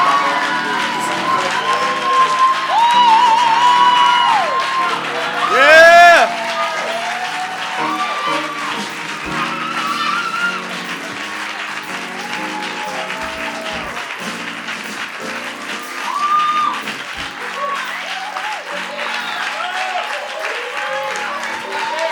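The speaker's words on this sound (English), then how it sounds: "I'll take the applause." Loud, sustained applause and cheering from an awards ceremony audience fill the room, swelling and continuing steadily with scattered whoops throughout.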